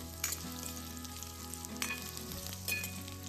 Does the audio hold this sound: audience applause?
no